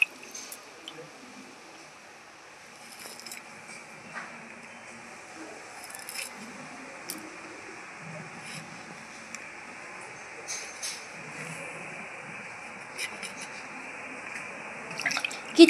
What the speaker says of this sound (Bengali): টমেটোটা কেটে নিচ্ছি। কাঁচা লঙ্কাগুলো চিড়ে নেব।